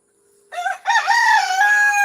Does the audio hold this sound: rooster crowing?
yes